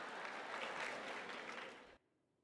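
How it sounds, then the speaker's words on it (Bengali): An audience claps together in a dense, loud burst of applause that holds steady for about two seconds, then cuts off abruptly into near silence. "হাততালি থামাও।"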